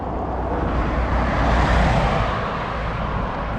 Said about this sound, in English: You can hear the traffic behind me.